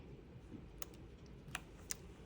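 A calculator's keys are tapped in a few sharp, separate clicks over a faint, steady room hiss, with nobody talking.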